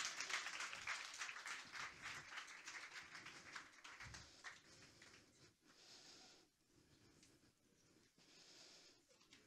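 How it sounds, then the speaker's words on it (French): An audience applauds a volunteer at a magic show during an awards evening, a burst of clapping that thins and fades into scattered, quieter claps. "Ah, super, on peut l'applaudir,"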